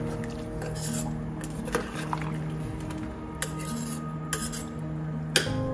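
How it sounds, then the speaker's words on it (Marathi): A spoon stirs masala rice in a metal pot, giving a soft wet churning broken by sharp clinks of utensil on metal, close and steady. "आणि याला ढवळत आहे"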